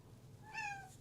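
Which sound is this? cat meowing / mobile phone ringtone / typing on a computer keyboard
cat meowing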